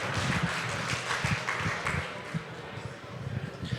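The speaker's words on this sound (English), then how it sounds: "Everybody stand up and cheer again." A conference audience at an entrepreneurship event claps and cheers as a whole room, a steady wash of applause with scattered whoops and voices that holds for several seconds and then slowly thins.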